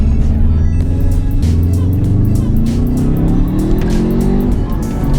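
A Subaru WRX with a boost leak pulls out onto the road, its engine loud and close as it rises steadily through the revs, with a brief tire chirp along the way.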